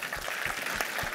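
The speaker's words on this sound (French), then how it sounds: "on peut vous applaudir" A studio audience at a science program recorded at EPFL breaks into brief applause, a dense, even wash of clapping heard alone for about a second.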